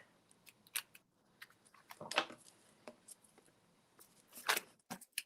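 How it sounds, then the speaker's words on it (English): Scissors cut apart paper cards in a crafting session, giving quiet, close snips in irregular bursts with brief pauses between, no voices. "So I could separate these. I can cut them apart decently."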